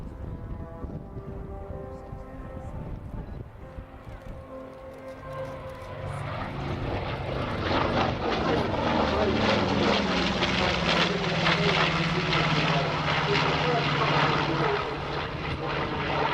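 The Flying Bulls' B-25 Mitchell bomber from the Second World War flies at the Royal International Air Tattoo airshow, its piston engines swelling from a distant drone into a loud, steady roar that holds to the end.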